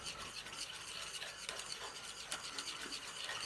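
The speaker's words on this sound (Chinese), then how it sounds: "往2个碗当中分别加上小半勺的食用碱和一点盐，把它们搅拌搅拌" Rice paste being stirred with food-grade alkali and salt in bowls, making a continuous soft rubbing, rasping swish with a few light clinks, close and quiet, with no voices.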